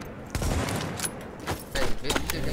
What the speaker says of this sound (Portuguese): Porque eles estão mandando tiro em outros caras, Esterinho.